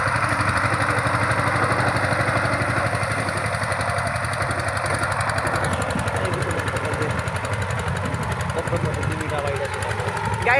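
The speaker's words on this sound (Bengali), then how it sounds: "পাওয়ার টিলার ড্রাইভারিং করা লাগছে আপনি হেঁটে হেঁটে" A power tiller engine drones steadily and loudly while ploughing a waterlogged field, its low rhythmic chugging continuous throughout, with a faint voice partly under it.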